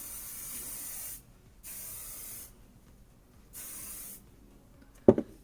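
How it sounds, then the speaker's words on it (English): Hairspray aerosol sprayed onto curled hair in three hissing bursts of about a second each, separated by short pauses, followed by a sharp click near the end. "So then you just want to grab your hairspray."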